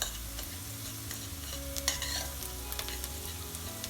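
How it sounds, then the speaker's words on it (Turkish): Onions stirred and fried together with pepper paste in a pan give a steady close sizzle, broken by scraping and clinking of a spoon against the pan, with nobody speaking. "biber salçasıyla soğanımızı birbirine iyice yediriyoruz"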